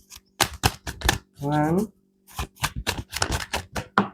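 Tarot cards are shuffled in quick, crisp bursts of flapping clicks, close by, with a brief spoken word in the middle.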